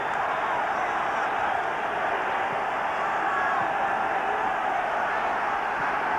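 A football crowd at the Den, Millwall's ground, roars in a dense, continuous wash of noise after a Millwall goal against Preston North End, with no break in the sound.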